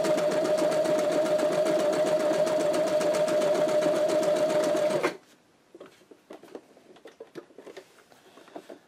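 A Brother Star 60 sewing machine stitches as fabric moves back and forth, giving a loud, fast, even mechanical whir with a steady tone for about five seconds, then stopping abruptly and leaving scattered light clicks and handling taps.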